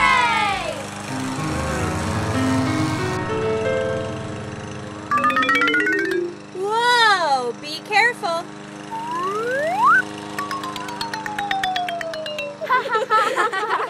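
A lawn mower engine drones steadily at first, then gives way to a series of rising and falling whistling tones and scattered voices.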